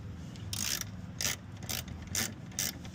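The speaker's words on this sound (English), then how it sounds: "where's the little 10mm wrench? Alright, so now I'm going to tighten these." A small 10mm ratcheting wrench tightens the master cylinder brace bolts on an Infiniti G35, making five or six quick, rhythmic clicking ratchet strokes up close, with no talking.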